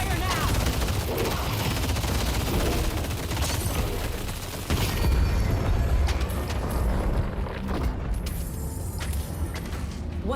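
Heavy gunfire in the video game Deadlock: dense, continuous bursts of shots and booms across the whole stretch, loud and close, with faint voices mixed underneath.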